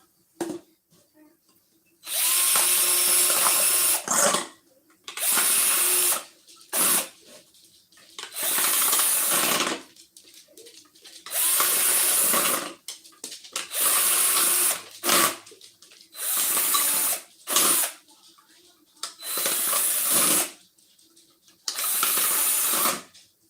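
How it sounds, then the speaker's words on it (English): A power drill whirs in repeated short bursts, about ten in a row with brief pauses between them, close and fairly loud, drilling holes through six stacked plastic pots. "I'm gonna see if I can drill a hole in all 6 of these at one time."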